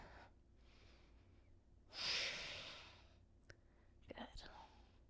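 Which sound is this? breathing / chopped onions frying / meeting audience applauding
breathing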